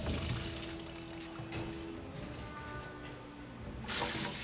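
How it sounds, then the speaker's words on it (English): A kitchen sink sprayer in a three-compartment sink runs, a steady hiss of spraying water with splashing against a dish, close and continuous. "we're going to want to take the sprayer,"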